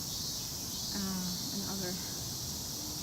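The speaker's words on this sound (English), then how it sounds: "at this season it's very loud with cicadas" Cicadas and other insects drone in a loud, steady high-pitched chorus while a person speaks briefly.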